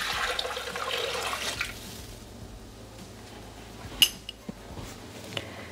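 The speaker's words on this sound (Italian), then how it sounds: "mettere l'acqua che deve essere tiepida" Warm water poured into the bowl of a Thermomix while cooking salmon with potatoes, a steady splashing rush for about two seconds, then quiet with a few light clinks of the bowl.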